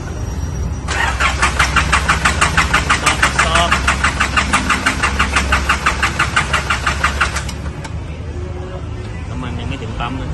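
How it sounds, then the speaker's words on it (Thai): An Isuzu All New pickup truck that stalls at idle has its starter crank steadily for several seconds in a fast rhythmic churn, loud and close, then cut off without the engine catching. "ต่อไปก็จะทำการทดสอบในการสตาร์ทเครื่องยนต์นะครับ"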